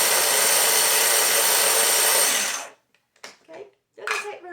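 A small food processor whirs loudly and steadily while chopping bologna for salad, then cuts off abruptly, leaving brief scattered clicks and handling noises.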